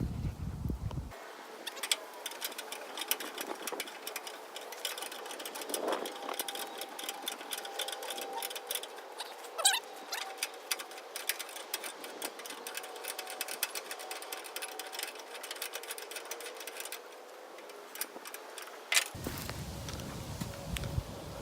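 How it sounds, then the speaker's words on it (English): Repeated ratcheting clicks from a tire tool cranking a hidden spare tire mount on a trailer, a steady fast rattle running for about eighteen seconds between quieter moments, close up with no talking. "now I'll go grab a tire tool and show it in operation"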